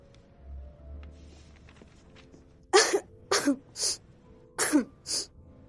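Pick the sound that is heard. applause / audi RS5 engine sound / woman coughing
woman coughing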